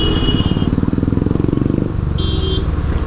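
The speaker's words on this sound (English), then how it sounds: "I love this popping sound this bike makes. It sounds beautiful." A Royal Enfield Bullet motorcycle engine heard while riding, a loud, steady low thumping with a rapid rhythmic pop-pop beat, close and continuous, with a faint beeping tone at the start and again near the end.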